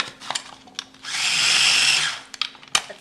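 A blender blitzes pesto with extra virgin olive oil in one loud whirring burst of about a second. Scattered clicks and knocks come before and after it.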